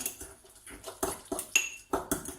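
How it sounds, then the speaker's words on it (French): Chopped flat-leaf parsley being stirred quickly into a potato mixture in a bowl for small potato patties, giving a string of close, soft scraping and clinking hits from utensil against bowl, with no talking. "On va mélanger rapidement."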